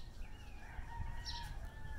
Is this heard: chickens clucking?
yes